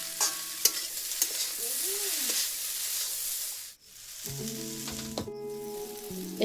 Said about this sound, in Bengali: তোমরা বন্ধুরা দেখতে থাকো, আমি ভাজতে লাগি।